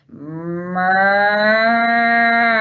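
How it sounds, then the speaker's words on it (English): A dairy cow gives one long, loud, close moo that rises in pitch early on and holds steady for nearly three seconds, with no other sounds. "dairy cows"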